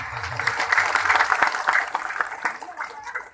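Applause from an audience at a public event for the Minister of Religious Affairs in a remote village in Aceh Singkil, a fairly steady clapping wash lasting a few seconds with some voices mixed in.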